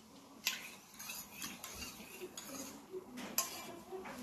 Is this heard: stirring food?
yes